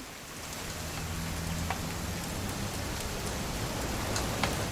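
Steady rain falls in the video game What Remains of Edith Finch, a constant even hiss of drops on surfaces with no voices over it.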